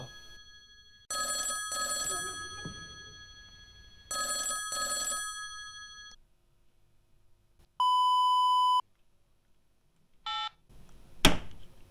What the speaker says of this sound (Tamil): கால்டா. கால் வருதுடா.